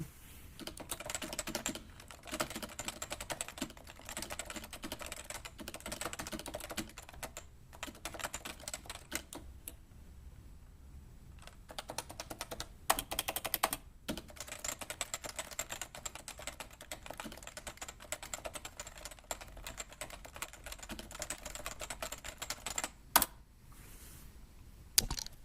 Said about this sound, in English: You just want to see me type on it and hear me type on it.